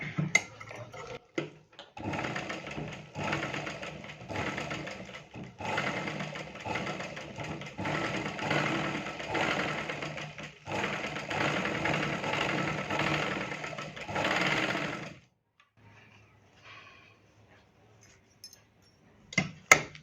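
Sewing machine stitching a blouse runs in close, loud bursts of rapid mechanical whirring with short pauses, then stops into near quiet with a few faint handling clicks.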